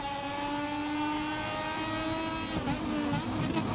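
Moto2 racing motorcycles in MotoGP 24 roar past on a straight, a steady high engine whine with shifting harmonics, loud and continuous, with a brief burst of rougher revving near the end.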